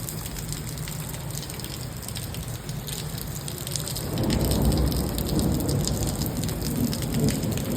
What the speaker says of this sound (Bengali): বেশি জোরে হচ্ছে না, একদমই ঝিরঝির ঝিরঝির করে হচ্ছে